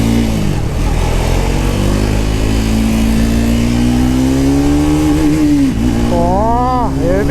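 A Triumph Speed 400 motorcycle pulling away in first gear, its engine note rising steadily and loudly close by, then dropping briefly before revving again, over constant wind rush.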